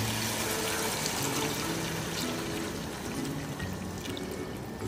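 Two glasses of water pour steadily into a pot of soaked basmati rice for a vegetable pulao, a continuous close splashing rush with no talk.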